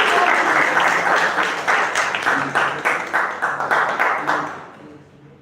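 An audience at a club meeting claps enthusiastically and steadily for several seconds after performances, then the applause thins out and fades away.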